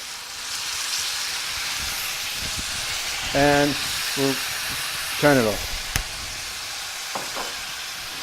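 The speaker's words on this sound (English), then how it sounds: "add a little bit of the vinegar in here, into the roasted peppers. Not much, just, you know, and you'll hear it sizzle up" Vinegar sizzles and hisses in a hot pan of roasted peppers with a few stirring scrapes, someone speaking briefly over the steady frying noise.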